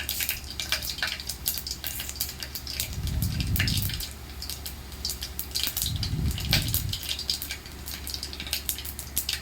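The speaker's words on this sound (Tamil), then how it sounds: "கடுகு இப்போ நல்லா பொரிஞ்சிச்சு." Mustard seeds and fenugreek crackling in hot oil while tempering for a prawn curry: a dense, steady sizzle with rapid popping, close and continuous, swelling twice into louder bursts.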